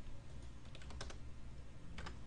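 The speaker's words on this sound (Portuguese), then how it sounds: "digitando o número" Several quick keystrokes on a computer keyboard as numbers are entered into the GIMP image editor: a short cluster, a pause, then a couple more taps, all faint and close against a low steady room hum.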